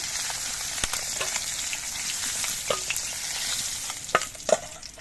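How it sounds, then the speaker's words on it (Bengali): Koi fish frying in oil in a wok, a steady broadband sizzle with occasional sharp spatters and crackles and a few light stirring clinks, close and continuous throughout. "বাকি মাছগুলো আমি একইভাবে ভেজে নেব"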